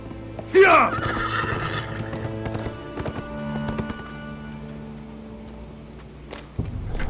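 A horse gives a loud, sharp whinny near the start, followed by steady clip-clop hoofbeats and low rumbling ambience in a Game of Thrones Telltale video game scene.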